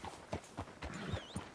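Horse hooves clop in Red Dead Redemption 2 as a rider pulls up on a town street outside the sheriff's office; about five evenly spaced, fairly close hoof strikes with a faint ambient bed.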